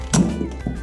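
A toy Nerf gun shot lands on a target with a short, dull thunk, followed by a softer second knock less than a second later, close and fairly quiet.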